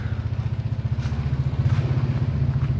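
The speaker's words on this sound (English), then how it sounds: "The good old ATV helping along." ATV engine straining while pulling a 1965 Mustang out, a close, loud, low rhythmic chugging throb that pulses steadily and builds slightly toward the end.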